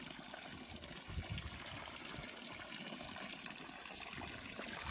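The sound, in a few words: jeevamrutha liquid fertilizer slowly poured onto crops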